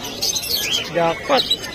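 African lovebirds at a pet market in Malabon give short, bright chirps and tweets, several quick calls scattered across a brief moment, heard close under and around a voice.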